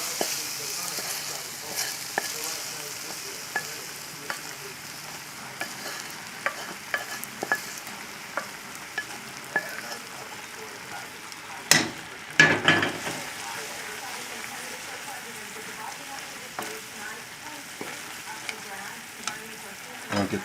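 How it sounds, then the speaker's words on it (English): Sauteed vegetables hiss and sizzle in a pan of leftover stock while a utensil stirs them, tapping and scraping now and then. The frying stays steady and close, with a louder clatter of stirring near the middle. "So let's take these sauteed vegetables now and put them in what's a little bit left of that liquid,"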